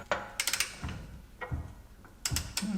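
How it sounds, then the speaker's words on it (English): Ratcheting wrench working on the rear wheel hub nut of a Jaguar S-Type during suspension teardown, heard as several close bursts of rapid metallic clicks separated by short pauses, with no talking. "The wheel hub nut must be removed in any case."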